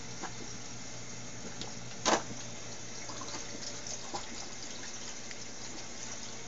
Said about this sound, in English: And the reservoirs are being filled.